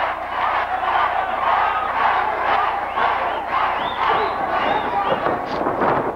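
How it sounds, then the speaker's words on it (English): Wrestling arena crowd at an AAA show in Austin, Texas, roaring and chanting for luchador La Parka, a loud, sustained wall of voices with shouts rising through it and no break. "Listen to that crowd."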